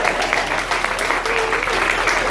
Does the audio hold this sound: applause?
yes